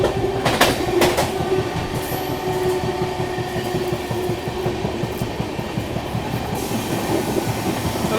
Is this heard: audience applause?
no